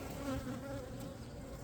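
Honeybees swarming around an open hive during a frame inspection, a steady close droning buzz with wingbeats passing near, continuous and without talk.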